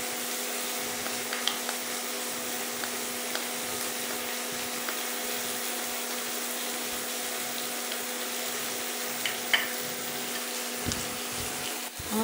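Ginger garlic paste frying in a pan while mutton keema is cooked, a steady soft sizzle with a faint hum behind it and occasional small crackles and clinks.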